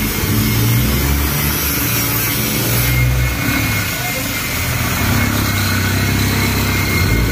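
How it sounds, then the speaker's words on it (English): Isuzu 4HF1 diesel engine in a Japan-surplus truck, running with a loud, steady, rumbling idle and a dense mechanical clatter, close up and continuous. "So ito 4HF1 engine guys."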